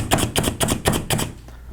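A Slap Chop chopper chops an onion with rapid repeated thuds, about eight sharp slaps in quick rhythm, close and loud, then a brief quieter tail.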